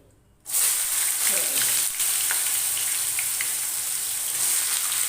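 Onions frying slowly in oil on a low gas flame, a close, steady sizzle that starts abruptly and continues evenly throughout.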